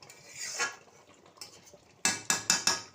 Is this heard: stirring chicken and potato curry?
yes